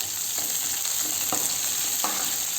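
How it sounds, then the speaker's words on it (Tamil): Onion and garlic sautéing in a pan for a coriander thokku, a steady close sizzle with occasional soft stirring scrapes, no voices. "இப்போ வெங்காயம் பூண்டு இதெல்லாமே நல்லா வதங்கி வரட்டுங்க."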